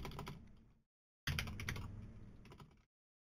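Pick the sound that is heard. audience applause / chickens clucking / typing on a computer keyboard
typing on a computer keyboard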